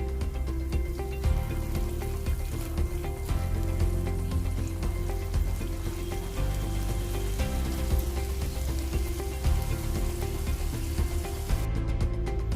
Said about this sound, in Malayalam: ഇനി എടുത്തു വച്ചിരിക്കുന്ന റൈസൻസും ഇട്ട് ഒന്ന് ഫ്രൈ ചെയ്തെടുക്കുക.